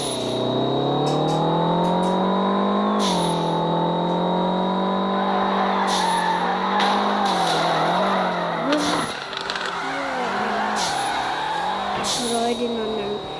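In FR Legends, a drifting car's engine drones and swoops up and down in pitch, with tire squeal scrubbing in partway through as the car slides.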